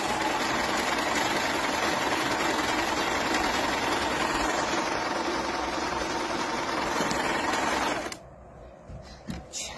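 A compact Jaguar sewing machine stitches a decorative pattern with a loud, steady mechanical whir that runs close and unbroken for about eight seconds, then stops, leaving a few faint clicks.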